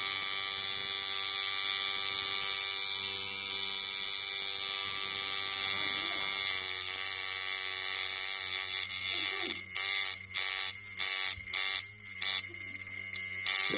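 A homemade coil tattoo machine buzzes loudly and steadily up close, its rapid electric hum turning choppy and stuttering toward the end.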